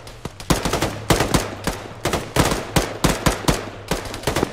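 Gunfire in the military video game ARMA, a rapid series of loud, sharp shots in bursts and single cracks, spaced irregularly over a low steady hum.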